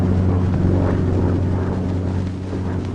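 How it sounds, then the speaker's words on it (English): Curtiss P-40F Warhawk fighter engine droning loud and steady on its takeoff run, a continuous low roar with strong harmonics and no voices, easing slightly toward the end. "As the plane starts down the runway, open the throttle with a positive, steady motion."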